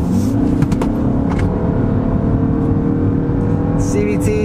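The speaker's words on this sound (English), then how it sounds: "It already just kicked on the engine here, and let's see how it accelerates." A 2023 Ford Escape plug-in hybrid's engine pulls steadily in sport mode on a back road, its CVT holding a sustained drone near the redline, loud and continuous throughout.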